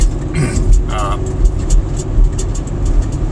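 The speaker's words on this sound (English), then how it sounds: "my truck's a little loud sometimes. You hear a bunch of jingling and jangling back there." A work truck hauling ladders on its roof and in the back drives along, its steady engine and road rumble loud and close, with faint rattling from the load and brief bits of speech over it.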